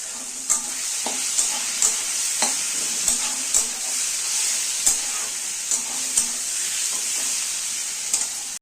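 Rice with green chillies and a little salt stir-fried in a pan, a steady bright sizzle running throughout while a spatula scrapes and taps the pan in regular strokes roughly every second, close up with no talking.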